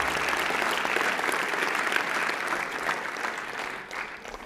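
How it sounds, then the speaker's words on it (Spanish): Church congregation applauding during a Spanish-language sermon, a steady wash of many hands clapping at once, sustained and fairly even before tapering slightly near the end. "Denles aplauso fuerte a Dios"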